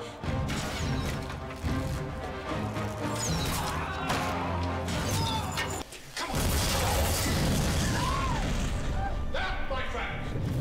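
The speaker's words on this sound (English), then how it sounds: "That, my friend, is Byzantine fire." Byzantine fire erupting during a battle scene in a Robin Hood episode: loud crashing blasts and rumbling destruction over a dense soundtrack, with a brief drop before the roar resumes, voices mixed in.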